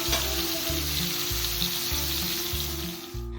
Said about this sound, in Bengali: এবার খোকা ইলিশগুলোকে ভেজে নিচ্ছি।